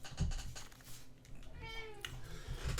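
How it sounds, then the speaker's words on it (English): A pet cat gives a drawn-out, wavering meow close by, rising and falling over about a second, set against a low background hum with no talk. "My cat."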